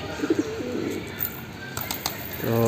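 Pigeon cooing, a few soft low coos at the start and again at the end, close by over a continuous ambient hiss.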